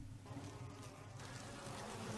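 A beehive in the video game Resident Evil HD gives off a steady, dense buzz of many bees that drones on continuously and fairly quietly.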